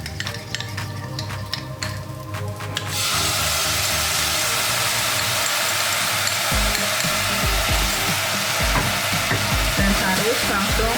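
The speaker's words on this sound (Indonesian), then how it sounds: "Harus langsung tetap kita aduk ya, biar gulanya merata." Sugar being stirred with tamarind water into a pan that already holds tempeh, for a nasi uduk spread; a steady loud broadband sizzle builds after the first few seconds and runs throughout, with stirring scrapes beneath and no talk.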